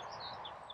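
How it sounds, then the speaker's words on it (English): Birds singing in the evening countryside of North Cumbria at twilight, a few high thin chirps over a steady distant roar of traffic, faint and outdoors. "listening to the birds singing"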